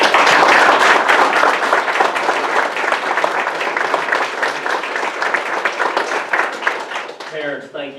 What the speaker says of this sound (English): How about a big round of applause for all of you?